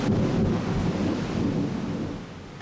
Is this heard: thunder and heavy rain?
yes